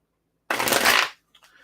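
Tarot cards being shuffled during a reading, a single close riffling burst of about half a second, followed by faint rustling.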